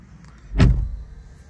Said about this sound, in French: J'ai mon siège qui se remet en place.